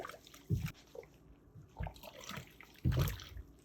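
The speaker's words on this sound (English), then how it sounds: "That's 20 minutes, so I can finally rinse these off." Dyed canvas shoes are rinsed under running water, heard as a few short splashing bursts over a soft, uneven trickle.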